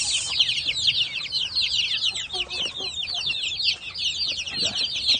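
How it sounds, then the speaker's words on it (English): Chickens and roughly fifty 21-day-old chicks on a chicken farm keep up a constant dense chorus of high peeping and clucking, close and continuous throughout. "that chick baby is 21 days, around 50 chicks."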